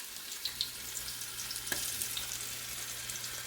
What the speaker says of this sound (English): now my oil is hot enough, so I'm going to start frying my chicken